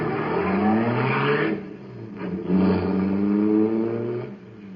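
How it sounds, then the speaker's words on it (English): A supercharged car engine roars loudly and steadily in a radio drama sound effect, its rumble swelling and dipping with no voices over it. "that cosmic surface car is really roaring"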